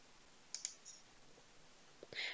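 A couple of faint, sharp mouse clicks close to the microphone, followed by a softer click and rustle a moment later, against a quiet background.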